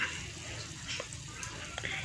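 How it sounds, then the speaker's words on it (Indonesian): Onde-onde sesame balls dropped into warm oil over a small flame give a soft, steady sizzle with faint crackles throughout, close by and moderately quiet. "langsung masukkan onde-ondenya ke dalam minyak yang hangat dengan api yang kecil"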